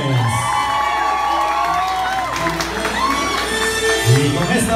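Guests at a quinceañera burst into loud cheering, whooping and applause for the birthday girl's little brother, with children shouting among the crowd and an announcer's voice over the noise.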